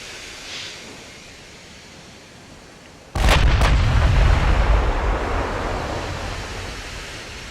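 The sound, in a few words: naval artillery fire in Ultimate Admiral: Dreadnoughts video game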